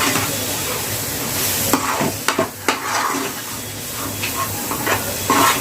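Paneer tikka masala being stirred in a pan, a spoon scraping and clacking against the metal in irregular taps over a continuous soft sizzle, close and alone.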